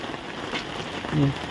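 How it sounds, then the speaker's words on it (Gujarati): Steady monsoon rain falls on a village near Botad, a soft, even hiss of drops filling the short stretch with no pause. "એ રીતના એક ધારો વરસે છે"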